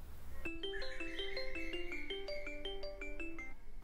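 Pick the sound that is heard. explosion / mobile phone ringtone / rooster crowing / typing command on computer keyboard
mobile phone ringtone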